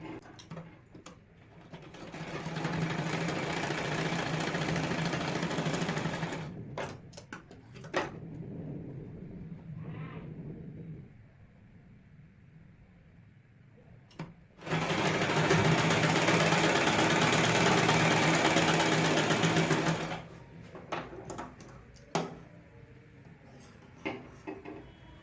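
Sewing machine stitching a double-folded cloth strip onto a blouse, two long bursts of fast whirring stitching separated by quieter pauses with cloth handling and clicks.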